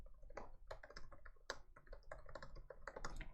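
Rapid typing on a computer keyboard at a table, close and fairly quiet, with irregular clusters of sharp key clicks and no talking.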